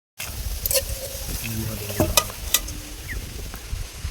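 Soybean pakoras deep frying in oil, a soft continuous sizzle with scattered sharp clicks and scrapes from handling, close by, with no speech.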